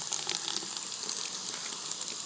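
Water runs from the spout of a pressurized portable outhouse sink, a constant hissing gush close by with no talking over it.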